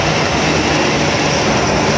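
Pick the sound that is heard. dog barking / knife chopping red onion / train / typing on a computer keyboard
train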